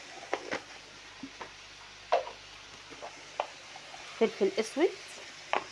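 Small pieces of meat stirred in a pan with black pepper, spices and ground cardamom, giving a soft sizzle broken by several sharp scraping stirs, while someone speaks over it.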